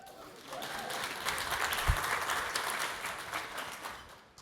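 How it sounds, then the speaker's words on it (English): A conference audience claps together in a broad, even burst of applause that holds for several seconds before tapering off, heard at a distance across a large hall. "That deserves a clap, for sure."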